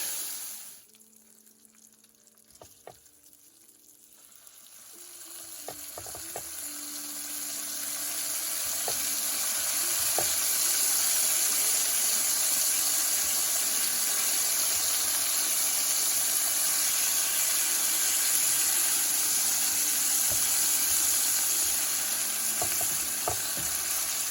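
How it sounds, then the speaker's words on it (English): Bacon frying on a Ninja Foodi XL Pro grill and griddle, starting with quiet handling clatter, then swelling into a loud, steady, crackling sizzle that holds close and continuous to the end. "We're gonna let that sizzle for about 5 minutes and then give it a check"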